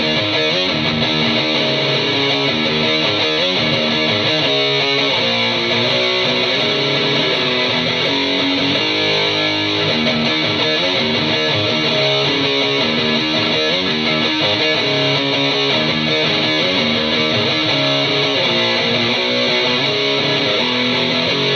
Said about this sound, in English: We're gonna click into the 80s extreme for extra hiss.